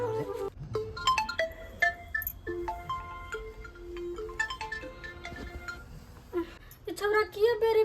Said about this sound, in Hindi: रिंग जा रहल है